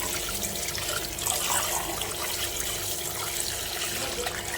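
Sorghum grains soaking for dosa batter are washed under water, a steady, close wash of running and sloshing water that continues without pause and without speech.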